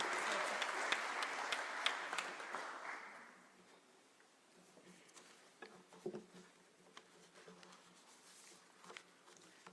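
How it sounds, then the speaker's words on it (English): Conference audience at the UNON Complex in Gigiri applauds to welcome a minister, with moderate clapping in the first few seconds that dies down to sparse, faint claps amid quiet room noise. "Keep clapping until she gets here, just to encourage her."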